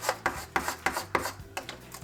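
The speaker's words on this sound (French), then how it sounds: "Je l'applique avec mon racloir qui est ici." A scraper rubs vinyl transfer tape down onto a wooden sign panel in a series of about seven short, crisp rasping strokes, close and fairly loud, with no talking.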